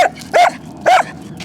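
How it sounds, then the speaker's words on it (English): A leash-reactive dog out on a walk gives two short, sharp barks about half a second apart, close and loud, with a quiet outdoor background. "Are we gonna stop these little chuffy barks?"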